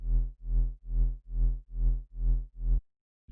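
A simple triangle-wave synth tone in the Theorem synth, its level pulsed by an LFO into seven even, rounded swells of equal length, heard alone and ending abruptly.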